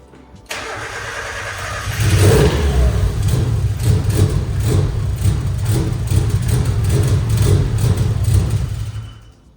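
A Mazda Miata cranks and starts with a brief churn, then settles into a loud, uneven, lumpy idle right nearby, holding steady for several seconds before cutting off.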